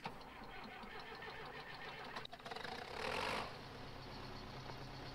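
A Zetor tractor engine in a farming video game mod cranks and catches, a faint rough mechanical churn that swells briefly before settling into a low idle rumble.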